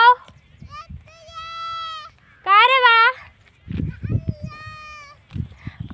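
Goats grazing let out several loud, wavering bleats, one after another. A voice speaks in between the calls.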